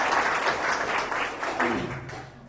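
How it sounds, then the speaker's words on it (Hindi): A congregation at a Sunday evening prayer service welcomes a guest with steady applause, a sustained even patter of many hands with a low hum beneath it. "उनका भी हम तालियों से स्वागत कर सकते हैं।"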